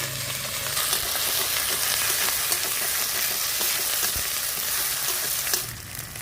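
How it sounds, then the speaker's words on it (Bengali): A ground cumin and coriander paste frying in a pan, a dense, steady hiss of sizzling oil with faint crackles, close and continuous, easing off slightly just before the end, no talk. "মশলাগুলো কত সুন্দর কষিয়ে নিয়েছি"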